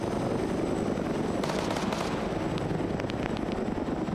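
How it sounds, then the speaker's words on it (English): An Arma 3 helicopter flies off during a military combat scenario, a loud, steady rotor roar filling the scene, with scattered sharp cracks of gunfire over it. "this helicopter's now waving off."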